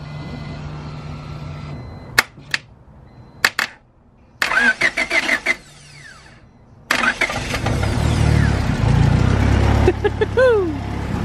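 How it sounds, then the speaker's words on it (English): A Honda B20 VTEC turbo conversion engine starting for the first time: a few sharp clicks, then starter cranking. The engine catches and settles into a loud, steady running drone close by. "That right there, guys, is the first start of Joe's B20 VTEC conversion"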